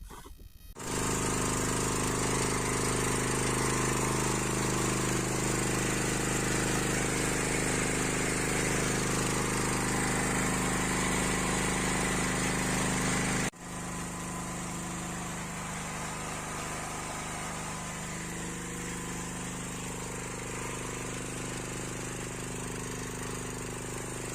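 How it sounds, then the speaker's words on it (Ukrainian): A 7.5 kW generator running on gas drones loudly and continuously under a 5 kW load, with a steady engine hum that shifts to a slightly lower, rougher tone partway through. "Зараз спробую, скільки генератор слайд споживає газу при навантаженні 5 кВт."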